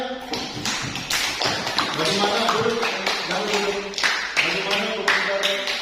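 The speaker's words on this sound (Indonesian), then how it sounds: "Oke, tepuk tangan dulu ya." Students clap together in a Catholic religious education classroom after a prayer, uneven loud claps rising and falling, with a teacher's voice speaking over part of it.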